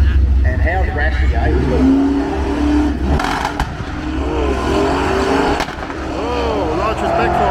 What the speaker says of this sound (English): Oh, nitrous backfires.